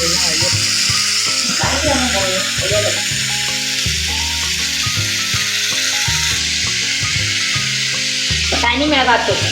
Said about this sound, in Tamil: அதோட சேர்த்து இந்த இறால் கழுவி சுத்தம் பண்ணி வச்சிருக்கிற இறால்